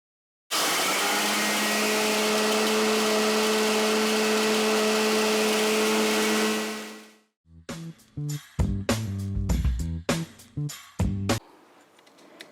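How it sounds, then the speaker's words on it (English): An electric grinder whirs loudly and steadily for about seven seconds while milling hazelnuts into flour, then winds down, followed by a series of sharp knocks and clatters from the machine being handled. "now we have our hazelnuts in the grinder and we're about to start grinding"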